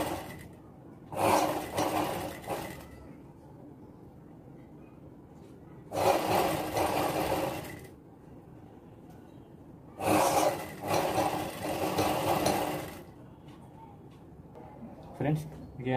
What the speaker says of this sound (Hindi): इस तरह कपड़ा मोड़ के हमें एक दाब में सिलाई लगाना।